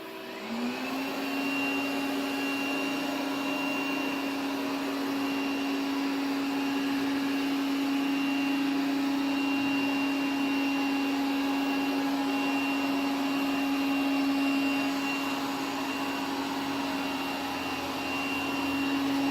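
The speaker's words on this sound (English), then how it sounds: "can operate the vacuum cleaner" A vacuum cleaner runs steadily and loudly throughout, a constant motor whine and airflow hum after a brief spin-up at the start.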